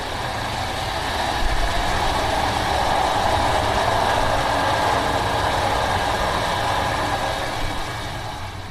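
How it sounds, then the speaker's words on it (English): The La Dolce Vita Orient Express luxury train rolls along Italian railways with a continuous low rumble and hum of wheels and carriage, steady and fairly loud, with no talk. "For Monocle, riding on the La Dolce Vita Orient Express"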